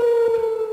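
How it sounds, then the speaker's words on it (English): Alarm siren from the FPS video game Red Alliance, a loud, steady sustained wail with strong harmonics, holding one pitch throughout the short stretch with no voices over it. "Yeah, that's the alarm."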